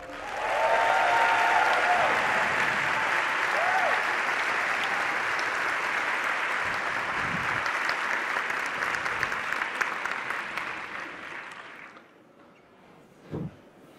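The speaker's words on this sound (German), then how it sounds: "Den langen, weiten Weg von Darmstadt nach Frankfurt begrüßen Sie Jan Welzenbach." Audience applause at a German science slam in Frankfurt rings out loud and dense for about twelve seconds, then fades quickly to near silence, with a single thump near the end.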